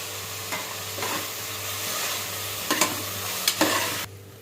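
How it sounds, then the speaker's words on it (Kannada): Chicken gravy sizzling in a pan as coriander is added and stirred, a continuous crackling fry with several sharp spoon scrapes and knocks before the sound cuts off. "ಸೊ ಇವಾಗ ಇದಕ್ಕೆ ಕೊತ್ತಂಬರಿ ಆ್ಯಡ್ ಮಾಡ್ತಾ ಇದ್ದೀನಿ ನಾನು"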